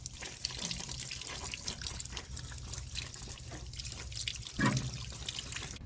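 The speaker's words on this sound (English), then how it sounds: "Give the roots a further clean by washing under a tap." Tap water runs steadily over the roots of a Sarracenia pitcher plant being cleaned, a continuous close splashing stream with small drips and a brief louder splash near the end, no voices.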